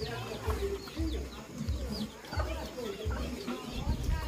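Chickens cluck and murmur on a rural farm, repeated low rhythmic clucks mixed with faint bird chirps and background noise, fairly close and moderately loud throughout.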